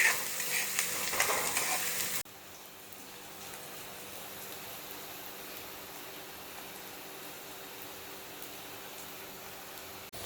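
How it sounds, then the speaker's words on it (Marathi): Onions sautéing in a pan until pink, a steady hissing sizzle throughout, louder at first with some stirring, then settling into an even, moderate fry. "कांदा आता छान गुलाबी रंगाला परतून घ्यायचा"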